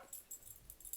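A dog indoors gives a few short high whines and yips in quick succession, faint and close, with no talking over it.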